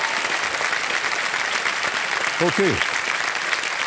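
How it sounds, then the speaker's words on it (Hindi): Studio audience on the KBC game show claps loudly and steadily, a dense sustained wave of applause, with a brief spoken word from a man partway through. "मैं चाहता हूं कि सब लोग जोरदार ताली बजाएं उनके लिए"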